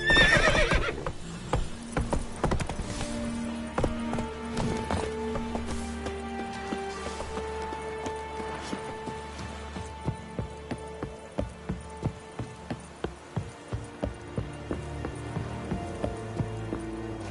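A horse in The Witcher 3 video game whinnies loudly at the start, then gallops with a steady, evenly spaced run of hoofbeats under a sustained musical score.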